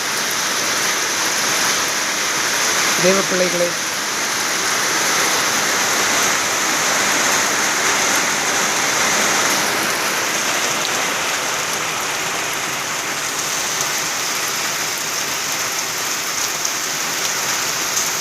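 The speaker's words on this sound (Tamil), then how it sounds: "மழை பெய்ய துவங்கிவிட்டது" Light rain falls steadily at midday, a constant close hiss and patter throughout, with a brief voice speaking early on.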